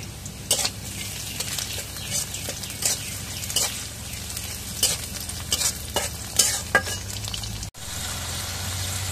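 Spices fry in hot oil in a pan, giving a steady crackling sizzle broken by repeated sharp clinks and scrapes of stirring, with a brief cut near the end.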